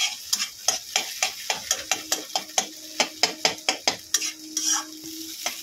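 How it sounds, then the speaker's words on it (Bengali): Egg frying in an oiled pan while being stirred, with a close, rapid series of scraping spatula strokes over a steady, quiet sizzle. "ছোটো ছোটো করে কেটে একদম ডিমটাকে ভেজে নেব।"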